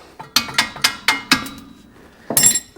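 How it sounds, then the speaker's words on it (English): A copper hammer strikes a bolt on the rear trailing arm of a Suzuki Jimny under restoration, giving six sharp metallic taps in a steady rhythm. A brief clanking rattle follows after a pause. "I'm just going to give that a few taps with my copper hammer"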